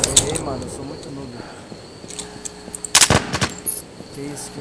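Gunfire in the PvP survival shooter Infestation, a quick burst of sharp shots amid chirping ambience, with a player talking over it.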